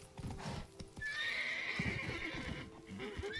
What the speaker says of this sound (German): man kann auf Wildpferden reiten